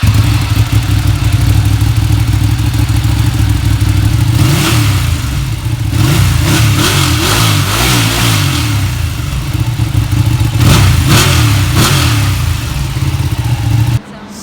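A Ducati Panigale with its stock exhaust rumbles loudly at idle close by, then is blipped in several sharp revs that rise and fall before settling back to a steady idle.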